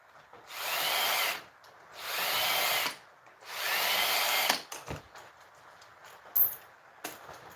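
A power drill driving screws, three sustained whirring bursts of about a second each with short pauses between, followed by scattered clicks and handling noises nearby.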